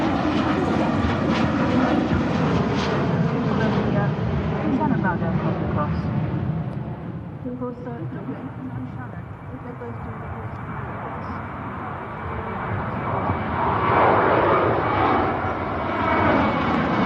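Ryanair jet departing from Manchester Airport toward Cork, a loud broad engine roar that swells, dips in the middle and builds again, with people chatting over it.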